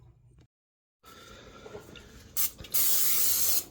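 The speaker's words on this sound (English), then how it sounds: "A little bit of spray in the pan" Cooking spray hisses from a can into a frying pan, two short bursts followed by a longer steady spray, close and loud after a moment of silence.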